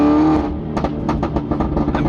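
After a brief engine drone, a car exhaust crackles with a rapid series of sharp pops and bangs, close and loud.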